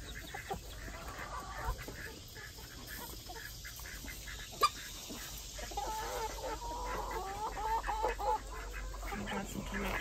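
Chickens, kept penned apart from a few non-laying hens, cluck and murmur steadily for several seconds at a moderate distance, with a low outdoor rumble underneath and one sharp knock midway.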